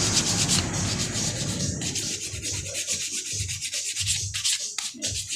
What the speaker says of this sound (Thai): ขัดกระดาษทราย